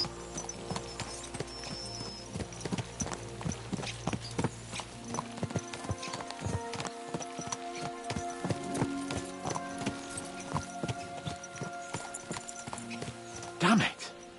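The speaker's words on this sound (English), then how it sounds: "Let's really spur these horses on, eh?" Horse hooves clip-clop steadily in a video game, a team driven along over a continuous bed of game ambience and music, with a whinny rising near the end and a voice speaking over the scene.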